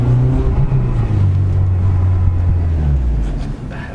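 A right-hand-drive JDM Honda Civic Type R heard from inside while driving, its engine a loud, steady low drone with slight shifts in pitch and no talk over it.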